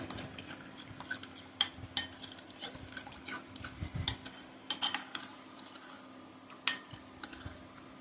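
Salt, chili, turmeric, cumin and coriander powders are stirred into onions in a pot for hilsa fish curry: quiet scraping with irregular sharp clinks of a spoon against metal, close but faint.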